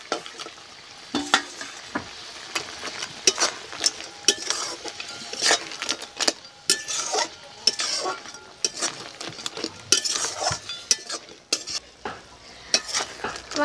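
A spatula stirs crab curry in a pan after ground garam masala goes in, giving steady scraping and clinking strokes over a continuous sizzle, close and fairly loud, with no talk.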